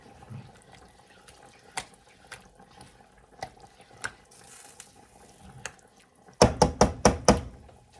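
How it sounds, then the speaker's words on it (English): Quiet clicks and light clatter, then a burst of running tap water rinsing beans with sharp rhythmic splashes near the end, close by and without speech. "I'm going to drain and rinse the beans"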